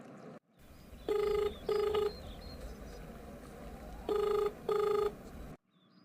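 Telephone call tones: two pairs of loud repeating ring-back bursts, each pair about half a second per tone with short gaps, over a low steady room hum, no talk.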